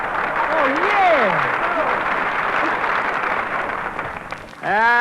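Studio audience applause on an old radio comedy broadcast swells as a dense, steady wash of clapping beneath someone talking. A sliding whistle or musical tone cuts through near the start and again at the end.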